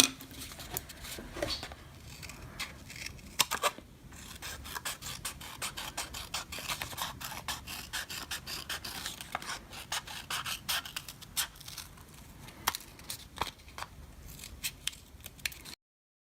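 Scissors snip through paper while cutting out a Lilo & Stitch bookmark corner: quick, close, crisp cuts in irregular runs, with a few soft rubbing and scraping sounds between them.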